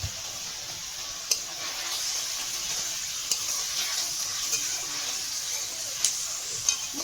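Spice paste with salt and turmeric frying alongside small fish for a lemon-leaf chorchori, a soft continuous sizzle with gentle stirring scrapes and a few sharp ladle taps.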